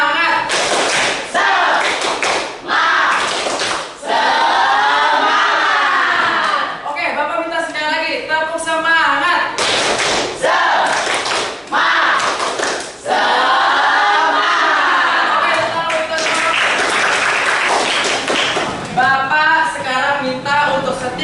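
Schoolchildren in an Indonesian classroom perform the tepuk semangat chant, bursts of loud unison rhythmic clapping alternating with group chanting voices, repeated in patterned rounds over about twenty seconds.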